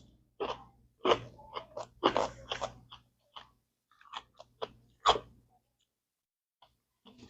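Bites and chewing of a homemade spicy cucumber pickle with jalapeño and cayenne, a run of close, crisp crunches in bursts with short pauses, quieter toward the end.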